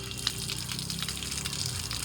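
Lemons are washed under a running tap, with a steady splashing rush of water and a few soft knocks of fruit, close and continuous with no talk over it.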